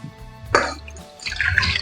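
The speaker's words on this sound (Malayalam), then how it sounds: "നമുക്ക് ചായക്ക് വെള്ളം വെക്കാം" Water splashes and trickles into a pot being set up for tea, in two short bursts with a brief quiet gap between them, close and moderately loud.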